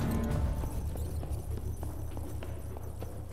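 Horse hooves clip-clop in a steady walking rhythm in the medieval video game 1428: Shadows over Silesia, fairly close and moderate in level, with no talk over them.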